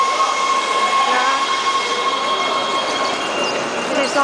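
A metro train on the Shady Grove line rumbles loudly and steadily up close, its broadband roar joined by faint high-pitched wheel squeal throughout.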